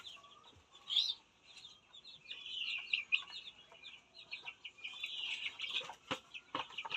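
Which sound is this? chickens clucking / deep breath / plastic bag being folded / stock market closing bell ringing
chickens clucking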